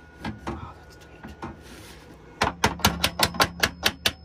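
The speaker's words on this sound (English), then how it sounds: "Hammer those little guys all the way down to the bottom." A hammer taps a metal RV storage bracket down into place under a bed: a few scattered knocks, then a steady run of about ten sharp, evenly spaced close strikes.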